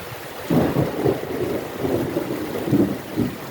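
Heavy rain with strong thunder, deep rumbling rolls repeating over steady rain and wind noise, loud and nearby.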